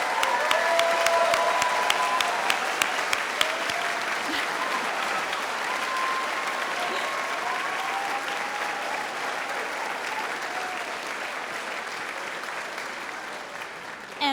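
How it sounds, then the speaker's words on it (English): A large auditorium audience at a law school spring convocation applauds and cheers for new law graduates, a steady, dense wash of clapping with some whoops and crowd voices sustained throughout. "show your enthusiasm, and cheer for your new graduates"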